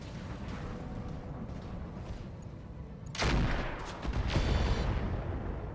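A big gun fires in the mech combat video game BattleTech, two heavy booming blasts a second apart rolling out over a constant noisy rumble, loud and reverberant.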